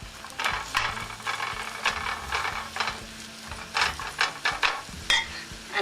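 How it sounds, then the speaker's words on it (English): Onions and peppers stirred in a hot pan: a soft sizzle under repeated scraping, clacking strokes of the utensil, close and irregular. "Give it a stir."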